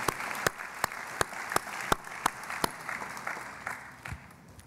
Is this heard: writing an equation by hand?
no